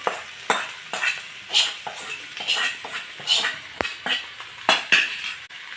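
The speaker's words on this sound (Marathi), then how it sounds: "मसाला आपला परतून झालाय भाज्या पण इथे पर परतून घेतल्या तर आता आपण हा मसाला याच्यामध्ये घालूया" Masala gets stirred into vegetables in a pan, with rhythmic scraping and clinking of a spoon against metal over a soft sizzle, close and moderately quiet, with no speech.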